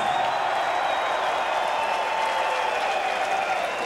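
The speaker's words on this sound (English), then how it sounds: "Everybody that went fucking ape shit, give yourself a round of applause." A large crowd at a heavy metal concert in Vancouver applauds and cheers, a steady, dense wash of clapping and shouting that holds evenly from start to finish.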